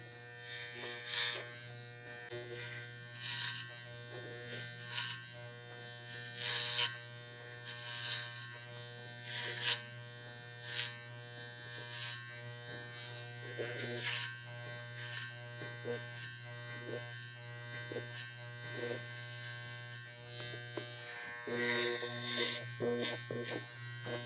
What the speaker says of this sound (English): when you're working with the clipper and you have an attachment